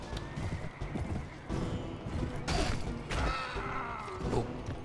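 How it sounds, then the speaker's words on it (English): A horse whinnies amid Mount & Blade Floris game hoofbeats clopping, with thuds and bright effects layered over a steady busy background. "Okay, I'll steal this guy's horse."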